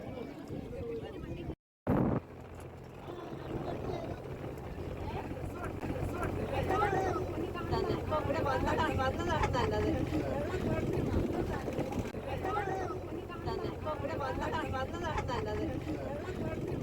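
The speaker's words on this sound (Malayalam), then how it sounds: "തിരിച്ച് സ്പീഡ് ബോട്ടിലേക്ക് കയറാൻ പോവുകയാണ്" A speedboat engine drones steadily with wind and water noise on Ashtamudi Lake, loud and close, while people talk over it; a brief dropout occurs near the start.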